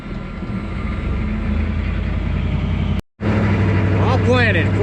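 Diesel army truck engine running on a farm at silage corn planting time, a loud steady rumble that cuts out briefly and returns, with some talk over it.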